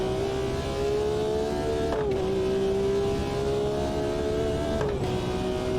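A BMW M1 Procar engine drones loud and close as the car accelerates, its pitch climbing and dropping sharply at two upshifts before rising again.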